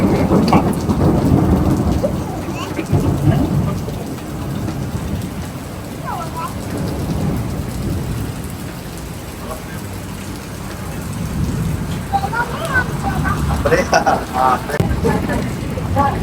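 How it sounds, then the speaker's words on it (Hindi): Heavy night rain pours down in Jeddah, a dense steady hiss with low rumbles of thunder rolling through, loud and close, with some voices underneath. "आज रात के वक्त यहाँ पे बहुत तेज बारिश हो रही है जिद्दा में"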